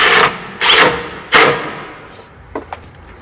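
Self-tapping screws driven into a van's sheet-metal body with a power driver for side-step brackets in a shop, heard as three short loud bursts of whirring drive with a couple of faint clicks after.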